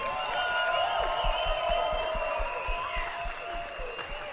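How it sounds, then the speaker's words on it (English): A large crowd at the SNK World Championship 2023 finals claps and cheers steadily for the top 8 players, a dense, sustained wash of applause in a big hall. "give your round of applause for your top 8 SNK World Championship"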